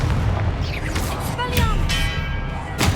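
Confringo fire blast spell exploding in Hogwarts Legacy, a loud booming burst over dense game noise, with a sharp crack near the end.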